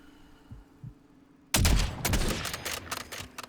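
An HDR sniper rifle fires in a battle royale video game. After a quiet stretch, a sudden loud barrage of sharp shots and rumbling booms erupts and continues in rapid, uneven bursts.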